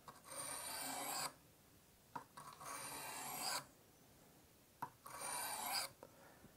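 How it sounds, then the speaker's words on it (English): A knife blade scrapes across a Smith's bench-style sharpening stone in three slow, even strokes, each a close, gritty rasp followed by a short quiet pause. "Lay your knife against the sharpening angle guide. Start the sharpening process."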